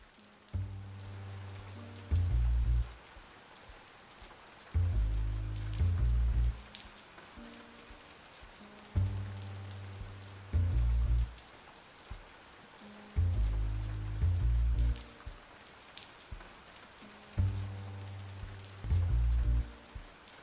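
Rain falls steadily in the Twofold visual novel game, a soft constant patter under a repeating low musical loop that swells and drops every few seconds.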